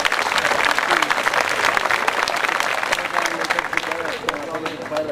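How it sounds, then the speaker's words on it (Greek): Warm applause from the crowd at a 2009 philharmonic band concert, a dense, steady wash of many hands clapping that continues for several seconds, with faint crowd murmur and voices mixed in. "Πραγματικά τους αξίζει ένα θερμό χειροκρότημα σε όλους αυτούς τους πραγματικούς πρωταγωνιστές."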